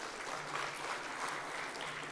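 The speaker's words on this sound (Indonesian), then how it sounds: "Tepuk tangan dulu buat Gobi" Brief, faint applause from a seminar audience, a soft, steady patter of many hands clapping in a hall.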